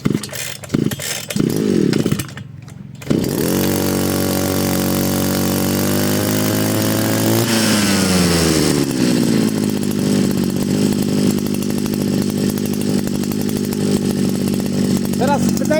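Petrol brushcutter fitted with a 350 mm Granit trident blade, sputtering through a couple of short pulls before catching and roaring, then rising to a louder rev and settling into a steady high-pitched drone.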